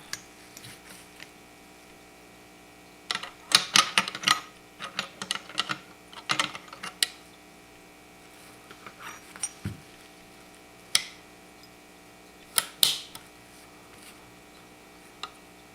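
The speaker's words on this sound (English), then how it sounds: "the bolt has to go back in" An SKS rifle bolt is slid back into the receiver during a conversion job, giving sharp metallic clicks and scrapes in short clusters, close and fairly quiet, with no talk.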